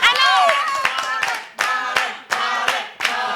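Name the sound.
clapping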